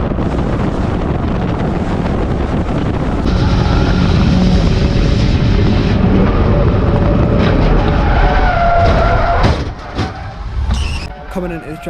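Stock car racing at Cowdenbeath Racewall, recorded from inside a car: a loud, steady engine roar with heavy wind buffeting that stays constant before dipping and turning choppy near the end.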